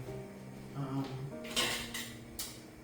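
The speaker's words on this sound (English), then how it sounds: "got this knife. Trying to cut this pumpkin." A kitchen knife clatters against dishes and metal utensils as it is picked up to cut a pumpkin, several close clinks and scrapes over about three seconds, no talking.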